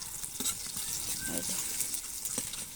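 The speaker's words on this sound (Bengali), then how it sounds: "আমরা এখন বেগুনটা উলট পালট করে দিচ্ছি" Eggplant slices fry in hot oil in a pan, a steady crackling sizzle with a soft clatter midway as the pieces are turned over, continuing evenly throughout.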